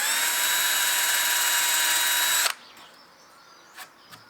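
A drill bores pilot holes through a scrap-wood template into a wooden stitch-and-glue kayak with a loud, steady high whine for about two and a half seconds. It stops abruptly, followed by a couple of faint knocks.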